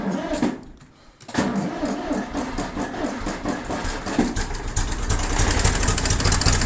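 An IMT 533 tractor diesel with a freshly adjusted Bosch injection pump cranks and catches after a brief quiet gap, then settles into a steady, rough, loud idle rumble.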